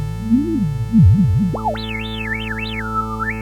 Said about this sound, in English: A boosted resonance along with the filter would sound like this.